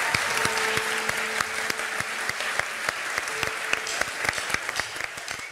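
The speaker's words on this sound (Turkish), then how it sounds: "Alkışlarınızla Fikret Dedeoğlu." Studio audience applauding a guest on a Turkish TV talk show, a dense, steady wash of clapping held at an even level throughout, with a few sharper claps standing out near the end.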